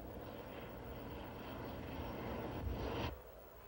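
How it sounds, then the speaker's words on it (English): An El Al Boeing 747 airliner descends to land, a steady low jet-engine roar swelling slightly before cutting off abruptly, heard from a distance with no talk. "an El Al 747, its markings covered to disguise its identity, floated down from the skies"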